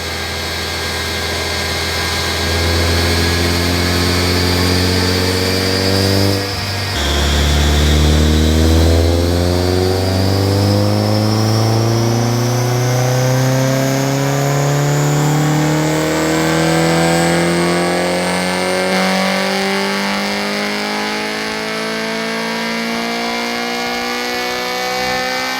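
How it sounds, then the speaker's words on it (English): A Honda Type-R engine on a dyno climbs steadily and loudly from idle toward about 9,000 rpm in one long sustained pull, after a brief dip partway through. "revving all the way almost a 9K"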